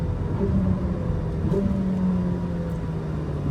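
A Ferrari 849 Testarossa on the Sonoma Raceway circuit, its engine a steady, moderately loud drone heard from inside the cabin with a slight rise as throttle is applied.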